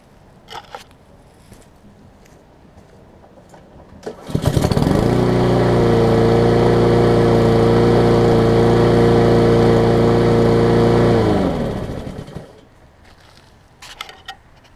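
A Black Max lawn mower engine, reassembled with its blade mounted upside down, starts after a quiet moment and runs at a steady, loud, even drone for about seven seconds before winding down and stopping.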